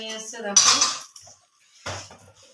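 Steel dishes, pots and cutlery clatter and clank while being scrubbed and washed, two loud bursts of metallic knocking separated by a quiet gap, close up.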